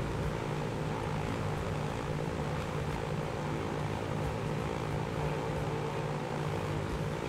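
A Douglas DC-3 propeller plane drones steadily in Transport Fever, its engines giving a constant, close, buzzing hum that holds without break and with no talk over it.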